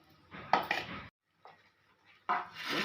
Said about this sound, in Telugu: ముందుగైతే ఉల్లికాయలు కట్ చేసుకుంటున్నానండి.